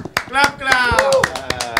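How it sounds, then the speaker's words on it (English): A short, scattered round of applause on a podcast set: a handful of sharp claps tap out irregularly beneath lively overlapping talk and exclamations. "give him a round of applause"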